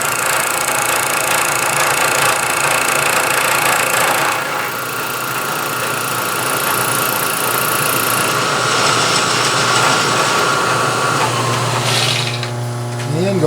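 A milling machine making a finishing cut on a block of stock, giving a steady, loud, high machine whine with a constant grinding texture that shifts in tone partway through and settles as the cut ends.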